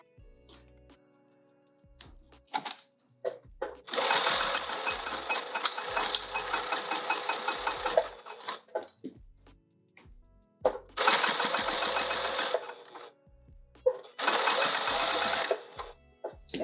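A domestic sewing machine stitching down the edge of a fabric pouch, running in three loud sustained bursts separated by pauses with small clicks and handling noises.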